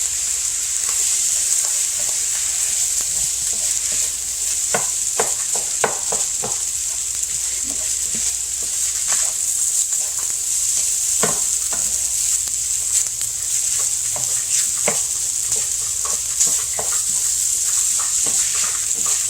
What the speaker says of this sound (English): I'll let this rice fry up a little bit more